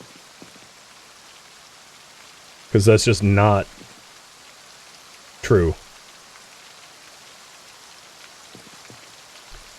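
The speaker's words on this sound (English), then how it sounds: "Oh, it's raining." Steady rain patters across the rooftops in Project Zomboid, a soft continuous hiss that runs through the whole scene while a voice speaks briefly over it.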